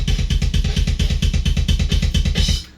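Rapid, evenly spaced kick drum thumps recorded with two microphones combined, deep and punchy, rolling fast for a few seconds before stopping.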